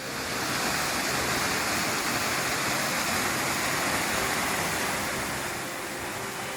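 A waterfall beside a Colorado mine trail sends up a steady, loud rushing roar that stays constant from start to finish, with no voices present.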